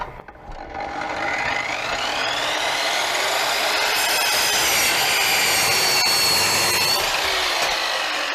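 A GTM miter saw cuts through wood with a loud, continuous whining rip that builds within the first second and holds steady, close up and with no talk.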